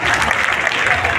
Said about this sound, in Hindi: एक बार हमारे स्माइल मैन के लिए जोरदार तालियां बजाइए।